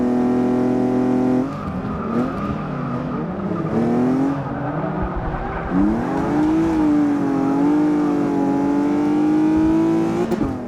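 A stock-format race car drives on a track, its engine droning loudly and steadily throughout, with the pitch rising and falling as it revs and accelerates, and brief tire squeal mixed in.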